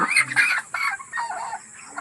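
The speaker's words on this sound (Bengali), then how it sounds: "এটা হলো ছাই ছাই কালারের মুরগিটা কিন্তু" A grey poultry chicken gives a short run of close, fairly loud clucks, a few quick calls in a row with no one speaking.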